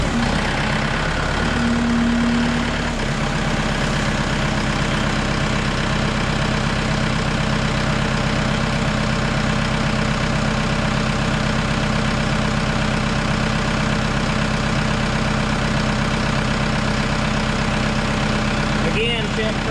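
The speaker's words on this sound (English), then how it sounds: "Alright, let's fire it off and see what happens." A Kubota M6060/7060 tractor's diesel engine cranks briefly, catches, and settles into a loud, steady rumbling idle that continues without a break.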